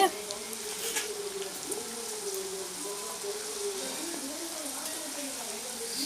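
Cassava chips frying in hot oil make a soft, constant bubbling sizzle beneath a person talking throughout.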